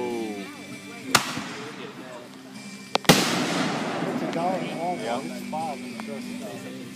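Two sharp July 4th firework bangs burst out, the second louder, with crackling and rumbling trailing off afterward, heard outdoors with people talking and exclaiming throughout.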